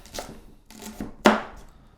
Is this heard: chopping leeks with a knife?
yes